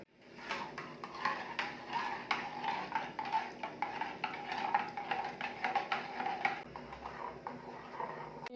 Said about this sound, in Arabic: نحط مغرف السكر، نقعد نحرك فيه كيما هكا حتى يطيب